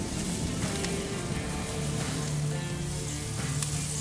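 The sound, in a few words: chicken thighs with skin sizzling on a smoker grill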